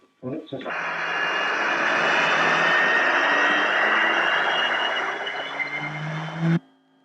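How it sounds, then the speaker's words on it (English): Saab Draken jet fighter on a high-altitude run with rockets firing, a loud, sustained roar that holds steady for several seconds after a brief opening burst, then cuts off abruptly. "High altitude run with rockets firing."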